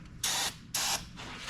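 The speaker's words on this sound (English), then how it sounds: "I'm just gonna spray some carbon choke into the carburetor." Carb choke cleaner sprayed from an aerosol can into the carburetor of a 1962 Impala 4 Door Hardtop, two sharp hissing bursts close up with a quieter third trailing off.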